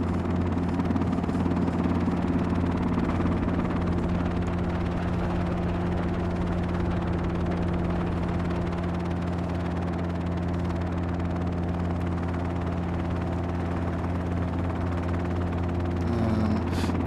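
Simulated helicopter hovering in the flight game X-Plane 11, a steady droning rotor and engine hum with strong low tonal bands, loud and unbroken throughout.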